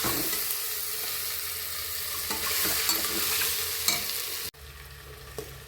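Spices roast and sizzle in a hot pan for Maharashtrian masale bhat, a dense, steady frying hiss with faint stirring scrapes throughout, close and continuous, dropping abruptly near the end to a quieter sizzle.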